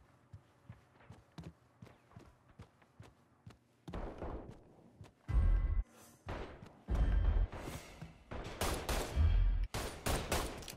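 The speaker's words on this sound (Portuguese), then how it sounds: "Tiros. Vocês estão vendo tiros?" Gunfire in the video game Mafia III: sharp isolated shots in an irregular rhythm give way to louder, denser bursts of automatic fire, with no voices over the shooting.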